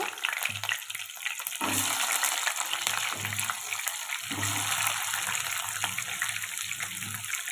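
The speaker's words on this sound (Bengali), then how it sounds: "এই তেলের মধ্যে পেঁপে আর আলুটাকে ভেজে নেব।" Raw papaya and potatoes frying in mustard oil, a dense bubbling sizzle that surges as the vegetables go in, with stirring scrapes and low thumps throughout; no talking.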